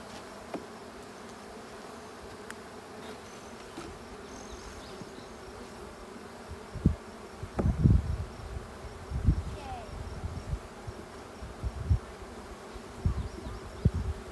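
A honey bee swarm buzzes steadily throughout, a dense insect drone with louder thumps and handling bumps breaking through near the middle and end.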